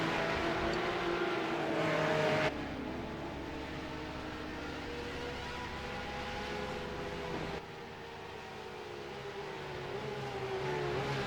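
Porsche 911 race cars racing at Watkins Glen, a continuous, dense engine drone whose pitch rises and falls as the cars pass, dipping briefly before building again.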